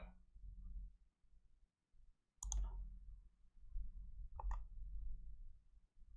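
Mouse clicks in the Hearts of Iron IV ship designer: a couple of sharp, isolated clicks a couple of seconds apart over a low background hum, with no talking.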